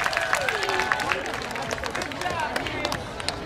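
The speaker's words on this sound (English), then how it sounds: "Let's give these little kids a round of applause." An audience claps and cheers for little kids performing at the FACPA Youth AFF 2018 event, with dense, continuous applause and crowd chatter mixed in from start to finish.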